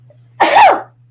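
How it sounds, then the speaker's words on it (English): One loud, abrupt sneeze, a sharp explosive burst lasting under half a second, close to the microphone, with near silence before and after. "I am not a dainty sneezer for anyone that wants to know"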